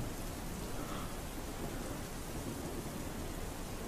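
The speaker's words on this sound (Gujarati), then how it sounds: "વહેલી સવારથી જ સુરતમાં ઝરમર ઝરમર વરસાદ શરૂ થઈ ગયો છે" Rain falls over Surat under dark clouds, a steady broadband patter with a low rumbling undertone that holds at an even level from start to finish.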